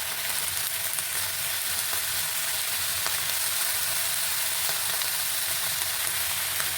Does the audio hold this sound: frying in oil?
yes